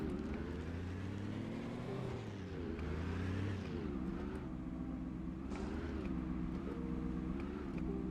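A car drives steadily down a road in Project Zomboid, its engine holding a continuous droning hum that shifts pitch as it speeds up and slows, loud and unbroken for the whole stretch with no talking.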